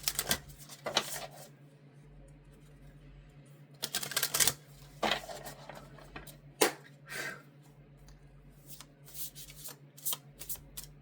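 Tarot cards being shuffled close up, with repeated riffling bursts and softer sliding and tapping between them, against a steady low hum.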